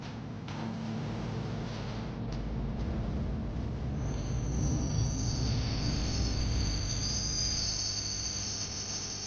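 Train pulling into Sengottai railway station: a loud, continuous close rumble of wheels on rails, with a high metallic wheel squeal rising from midway and crickets chirping underneath, no voices.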